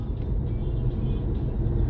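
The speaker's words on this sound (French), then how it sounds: "il y aura un peu de passage de voiture" Steady low road rumble of a car going by nearby, a continuous engine and tyre drone with no talking, heard from beside a parked Toyota C-HR.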